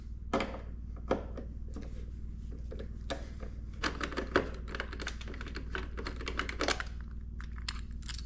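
A T25 Torx driver loosening three screws on the windshield mount of a 2023 Harley-Davidson CVO Road Glide fairing, heard as a quiet run of close, sharp clicks and ticks in uneven bursts.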